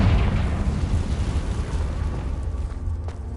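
A Confringo fire spell blasts in the video game Hogwarts Legacy, a loud, sustained booming explosion with a deep rumble that fills the whole moment and slowly fades toward the end.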